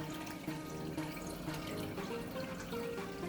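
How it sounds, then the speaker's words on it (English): Water being poured into a fish acclimation container for a mangrove aquarium tank, a steady, faint, continuous trickle and splash with no talk. "we're gonna add a little water"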